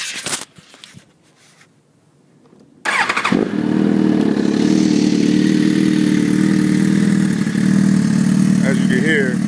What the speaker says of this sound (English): So this bike is very loud, and it gets up very fast.